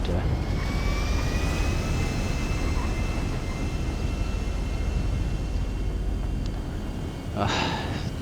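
A helicopter in the game GTA V on a FiveM server gives off a continuous, even, rushing engine and rotor drone that holds at a moderate level throughout, with a faint brief rattle near the end.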